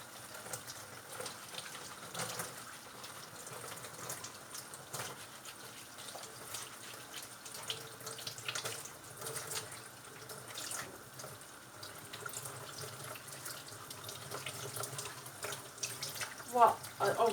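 Water runs from a kitchen tap into a sink while white cabbage leaves are washed, a soft continuous splash and gush with faint handling noises, fairly quiet throughout.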